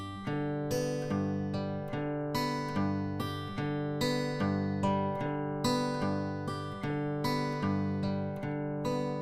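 Acoustic blues guitar fingerpicked across the first three strings, a steady stream of evenly spaced plucked notes over a sustained bass, clear and close with no talking.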